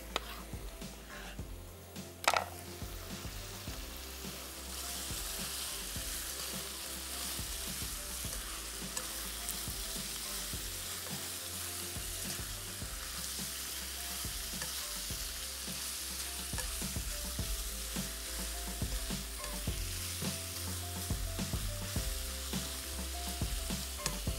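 Chicken and onions frying in a pan give a steady close sizzle throughout, with occasional stirring scrapes and clinks and no voices.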